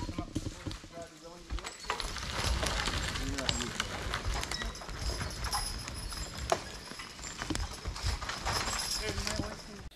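A horse pulls a homemade one-horse cart, hitched to a log, at an outdoor draft animal field day; hoof clip-clop and cart rattle go on steadily throughout, with people talking in the background.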